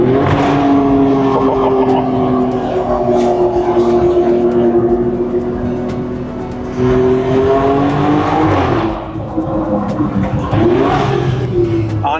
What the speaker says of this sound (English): how happy I am with how the Z-pipe sounds